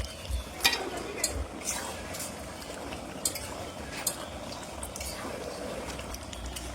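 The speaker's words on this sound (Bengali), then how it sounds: "নেড়ে চেড়ে মশলার সাথে মটনটা ভালোভাবে মিশিয়ে নিচ্ছি" Seven kilos of mutton are stirred into cooked-down spice masala in a large pot. Spoon scrapes and metallic clinks come at irregular intervals over a low bubbling, with a voice faintly present in the background.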